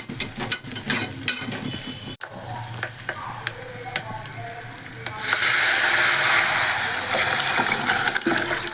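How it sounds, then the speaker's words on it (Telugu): Onions for a dal tempering fry in a pan. Soft clinks and stirring come first, then a loud, close, steady sizzle with spattering takes over for the last few seconds. "ఇదిగోండి పప్పుకి తిరగమాతకి ఆనియన్స్ ఫ్రై చేస్తూ ఉన్నాను అన్నమాట"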